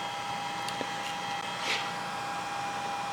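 A milling machine cutting a die block to dimension in 50-thousandths passes, a steady, fairly loud droning whir with a constant high tone running throughout, a few faint ticks and a brief swell in the middle, no voices.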